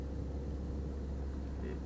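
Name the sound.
city traffic while driving from Brooklyn to Manhattan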